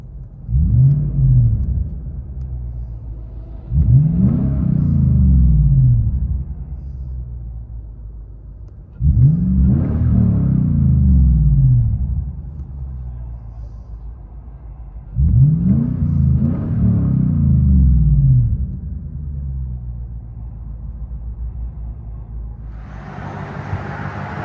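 A straight-piped 2020 Lexus GX 460 with a 4.6L V8, heard from inside the cabin, revs four times in loud rising-and-falling pulls, each a deep rumbling bellow that settles back to a low idle between.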